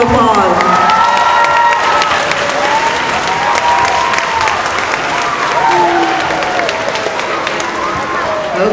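Audience applause and cheering for third-grade students at an elementary school award ceremony. Dense, loud clapping runs throughout, mixed with children's shouts and cheers.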